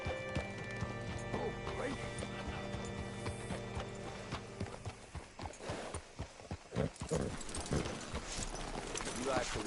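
Horse hooves clip-clop in Red Dead Redemption 2, mixed with mechanical clatter and a low hum. The irregular knocks grow busier and louder in the second half as the horse moves near.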